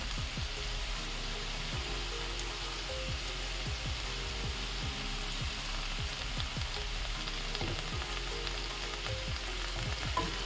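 Vegetables are stirred in a pot for restaurant-style veg chicken soup, with a constant sizzle underneath and repeated short scraping stir strokes spaced through the clip.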